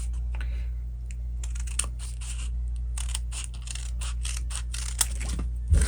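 Scissors cut fabric into a pentagon shape with a quick series of crisp snips and clicks, close up over a steady low hum.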